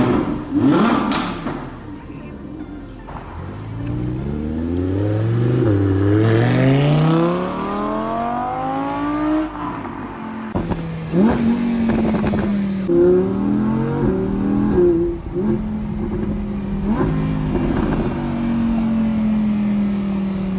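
A 2017 Audi R8's 5.2-liter V10 engine revs hard several times, the pitch sweeping up and dropping back, loud and close, then settling into a rough idle.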